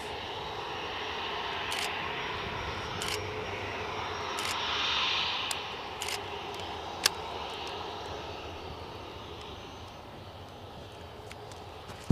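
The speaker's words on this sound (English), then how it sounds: "WestJet lining up to return to Halifax" A WestJet airliner's jet engines rumble steadily at Edinburgh Airport as it lines up for departure, a broad, distant roar that swells briefly midway, with faint clicks and wind noise over the top.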